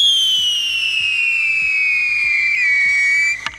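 Line rocket launched during testing, a loud sustained whistling screech that slowly drops in pitch, with faint repeated ticks underneath and a sharp crack at the end.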